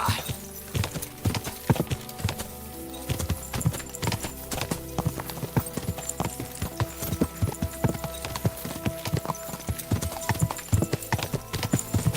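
Horse hooves clip-clop on the ground in Kingdom Come Deliverance 2, a brisk, steady run of sharp hoofbeats at close range under a low ambient hum.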